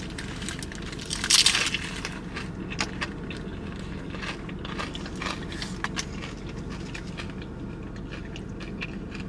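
Close, loud crunching of a Jimmy John's Kickin' Ranch Unwich lettuce wrap eaten with chips, a sharp bite early on followed by steady rhythmic chewing and crackling, with no talk.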